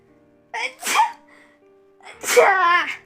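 A single person's sneeze, loud and close: a short breathy intake, then a sharp burst, a pause, and a second stronger explosive sneeze.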